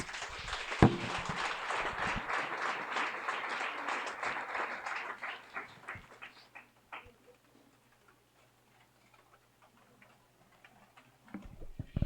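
A congregation at a church service applauds loudly for about six seconds, then the clapping thins to a few scattered claps before near silence.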